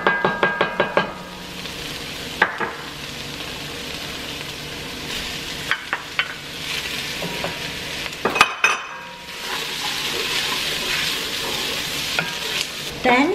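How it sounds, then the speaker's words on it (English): Tomato paste and sun-dried tomatoes get stirred in a soup pot, a sizzling bed under repeated scraping strokes and a few sharp knocks of the spoon against the pot, close and fairly loud, with no talk. "Then you add the tomato paste and sun-dried tomatoes. And you mix that up."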